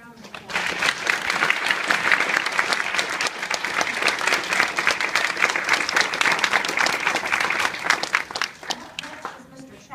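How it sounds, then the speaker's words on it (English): An audience at an awards ceremony gives a full, sustained round of applause that swells quickly and then holds dense and loud before tapering off near the end. Voices are faintly mixed in. "Let's give these folks another round of applause."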